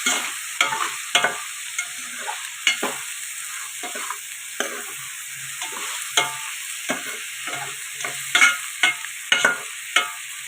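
A spatula stirs a tomato and brinjal curry with dried snails in a pan, making irregular, close scraping and clacking strokes over a faint sizzle, with quiet gaps between stirs.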